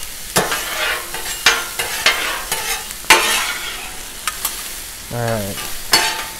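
Small steak fillets sizzling and frying on a hot 36-inch Blackstone griddle, with steady sizzle broken by scraping and stirring clacks of a spatula, close and fairly loud; a voice speaks briefly.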